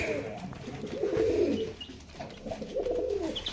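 Pigeons in a loft housing new breeding pairs give soft, throaty, rolling coos that repeat in close, low, moderately quiet phrases.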